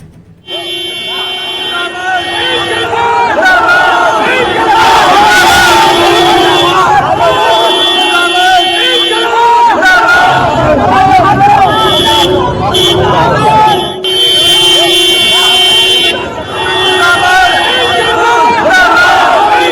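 A large roadside crowd in Rampur cheers and shouts in welcome for Azam Khan and his car, a loud sustained roar of voices with horns tooting now and then.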